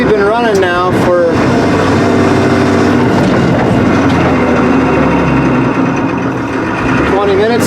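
A Link-Belt 2800 excavator with a hard-start problem idles loudly and continuously, its low engine drone running under a voice.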